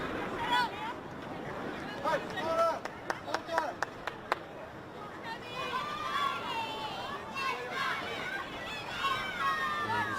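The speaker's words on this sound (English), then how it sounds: "younger football fans cheering on their NPL team here at Heath Park" Young fans cheering on their team at a women's NPL football match at Heath Park, Eastern Suburbs against Brisbane City, with distant high-pitched shouts, chatter and a few claps under steady commentary talk.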